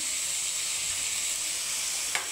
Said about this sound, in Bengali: এখন এটাকে আমি ভালো করে একটু ভেজে নেব